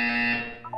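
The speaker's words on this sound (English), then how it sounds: "You will hear a buzzer." A harsh, steady electronic buzzer in the video game Portal 2, one loud sustained tone lasting under a second and fading at the end.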